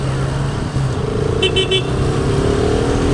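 Busy road traffic in Mumbai heard from a moving motorcycle: a loud, steady engine and road rumble with a short burst of horn toots in the middle.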